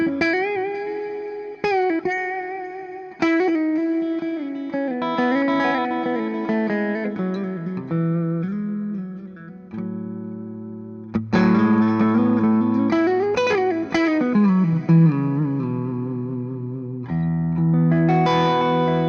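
An Epiphone Joe Bonamassa 1955 Les Paul Standard electric guitar on the middle pickup, volume rolled back slightly, plays ringing chords and bent single notes with an effects-laden, chorused, mildly distorted tone and long sustain, up close with no talk.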